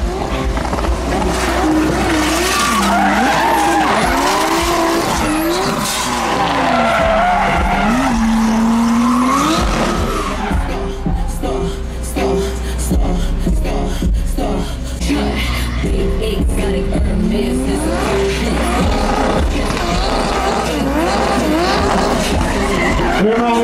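Pro drift cars at the TTDA Drift Finals 2024 battle in tandem, with loud, continuous tire skids and engine revs rising and falling throughout, and faint commentary beneath.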